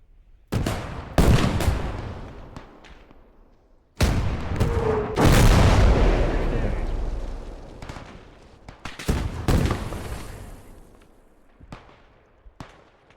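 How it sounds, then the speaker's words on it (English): Field guns firing in the Call to Arms Gates of Hell Ostfront battle, with several loud, sharp booms followed by long rolling echoes, plus scattered smaller gunshots in between. "Oh, field gun sorted them out."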